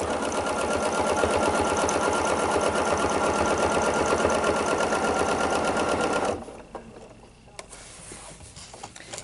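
A sewing machine runs steadily for about six seconds, stitching a quarter-inch row of ruler-guided quilting on a table runner, then cuts out, leaving faint handling clicks and rustle.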